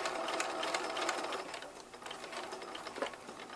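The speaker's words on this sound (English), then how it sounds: "I'm sewing maybe 1/16 of an inch away from the edge" A sewing machine stitches a flat fell seam close to the fabric edge, a fast continuous rattling whir that runs steadily throughout, loud and close with no talking.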